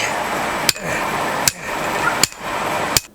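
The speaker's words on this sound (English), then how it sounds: "helps to protect the post from being banged up by the sledgehammer" Sledgehammer blows drive a fence post into the ground for a greenhouse project, four heavy strikes spaced about three-quarters of a second apart over steady outdoor background noise.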